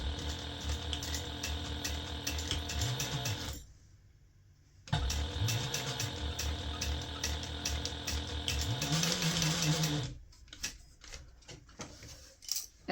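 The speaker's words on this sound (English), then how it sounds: "we're going to sew these corners at a 1/2 inch seam allowance as well" A sewing machine stitches the corners of a fabric gift bag in close-up bursts, with a rapid rhythmic mechanical clatter that stops briefly midway, resumes, then gives way to a few scattered clicks.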